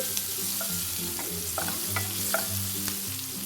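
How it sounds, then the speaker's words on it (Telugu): Onion pieces frying in oil in a pan for an Indian sweet potato curry, a steady crackling sizzle with repeated scraping and clinking as a spoon stirs them, loud and close. "ఇప్పుడు మనం ముందుగా కట్ చేసి పెట్టుకున్న ఆనియన్ ముక్కల్ని వేయాలి"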